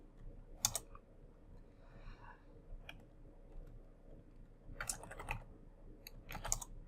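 Scattered keystrokes on a computer keyboard entering a command in a network simulator's command line, a few quick clusters of clicks with gaps between, quiet and close.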